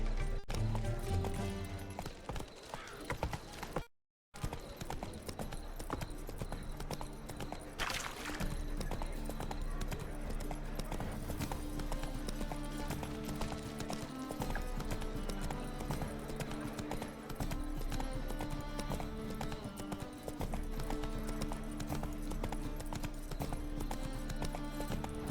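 Roach the horse galloping in The Witcher 3 video game: steady rhythmic hoofbeats on the ground throughout, close and loud, with music or ambience underneath and a brief dropout near the start.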